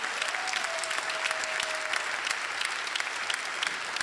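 A crowd in a church applauds steadily throughout, dense clapping with no break, fairly distant and even in loudness.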